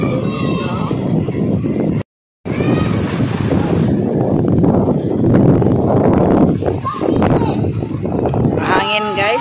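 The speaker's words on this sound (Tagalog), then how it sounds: "Mahangin sa labas." Wind buffets the microphone outdoors at a beach resort in Anda, Bohol on a cloudy day, a steady loud rush that runs through nearly the whole stretch with only a brief cut, while people talk over it.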